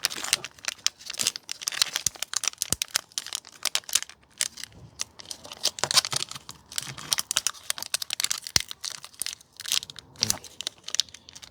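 Plastic packaging of an Auxito 7440 LED bulb set being ripped open up close, a dense run of crinkling, tearing and crackling that stays busy throughout, with no talking.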